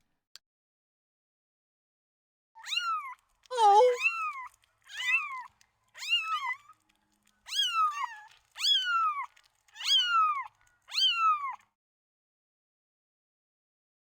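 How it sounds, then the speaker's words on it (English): A series of about eight short kitten meows in quick succession, high and clear against silence, with a brief low sound mixed into one of the early calls. "You got to hear the kittens"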